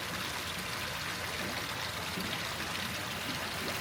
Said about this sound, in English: that's full water flow right now